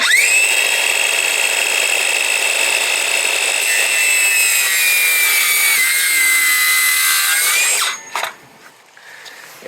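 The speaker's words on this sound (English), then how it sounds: "I'm going to show you how to do it with a circular saw" A circular saw rips through a wooden diagonal brace for a sagging shed door, a loud, steady, high whine held for about eight seconds before the blade cuts free and spins down with a few clunks.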